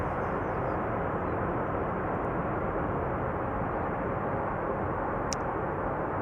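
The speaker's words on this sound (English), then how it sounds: "Reversers still work." An Air Canada plane from Toronto landing at Amsterdam Schiphol with thrust reversers deployed, a loud continuous broadband roar holding steady throughout.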